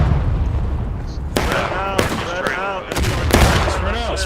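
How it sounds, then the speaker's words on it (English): Booming artillery fire in a Civil War battle video game, several heavy blasts in quick succession, loud and close, with bursts of talk between them. "Why is their artillery always aiming at me?"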